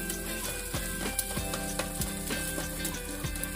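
Food fries in a worn frying pan during a trip in Catamarca, Argentina, a close, steady sizzle with recurring scrapes and taps from stirring.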